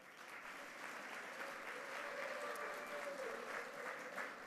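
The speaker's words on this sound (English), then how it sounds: "let's give them a round of applause" An audience at a 2019 leadership awards celebration applauds the award recipients, producing sustained, even clapping that stays at a moderate distance throughout.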